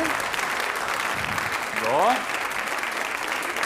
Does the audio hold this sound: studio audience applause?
yes